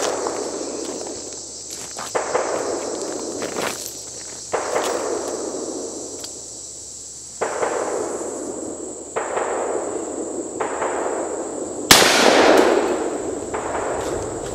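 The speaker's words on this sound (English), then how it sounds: "let's see what these 357 Magnum hollow points can do to a can of shaving cream" A Colt Python revolver fires .357 Magnum hollow points at a can of shaving cream, giving a series of loud, sharp, close reports spaced a second or two apart, with a final, heavier blast near the end.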